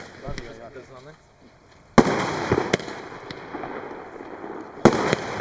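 A Gladiator firework fires at an outdoor pyrotechnics demonstration in Czechia, giving sharp, loud bangs with a crackling burst between them and a dense roar that follows. Someone speaks briefly beforehand.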